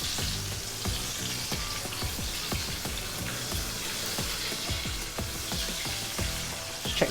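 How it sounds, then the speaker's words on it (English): A chicken cutlet fries in a pan of hot oil, giving a steady, close crackling sizzle with rapid popping spatters throughout. "I'm gonna give it a final flip when it stops sizzling."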